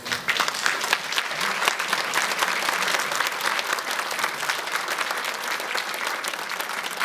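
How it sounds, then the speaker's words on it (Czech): A crowd at an art exhibition opening in Kyjov claps continuously, a close, dense and even patter of many hands lasting several seconds without pause. "já myslím, že tohle si opravdu zaslouží potlesk."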